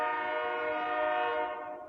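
A train passing about two blocks from a city neighborhood blows a long, sustained horn chord that stays loud and then fades slightly at the end, heard alone without speech.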